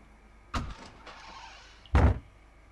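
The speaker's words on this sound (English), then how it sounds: "we get the sound of someone trying to open it" A cabin door in Friday the 13th: The Game is tried and then opened: a brief rattle of the handle, a creaking stretch, then a heavier thud-like clunk near the end, close and alone.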